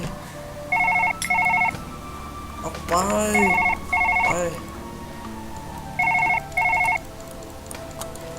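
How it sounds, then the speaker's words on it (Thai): A telephone in the surgery video game Surgeon Simulator rings in repeated paired electronic bursts, loud and close, sounding several times across the stretch while someone talks excitedly over it. "นี่โทรศัพท์ดังเยอะ"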